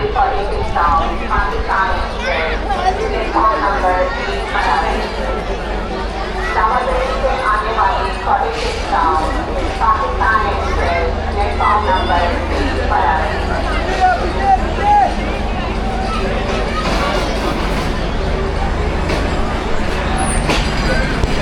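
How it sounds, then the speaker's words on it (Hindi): Pakistan Railways passenger train rake pulling into a station, a steady rumble of wheels and carriages under a busy platform with crowd chatter and voices throughout. "ले जी रेक आ रहा है 47"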